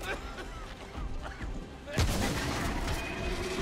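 Shotgun blasts in Remnant: From the Ashes, a loud booming shot cutting through busy combat noise midway, with someone talking during the fight.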